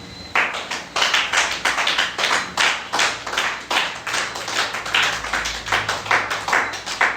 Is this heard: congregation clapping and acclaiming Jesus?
yes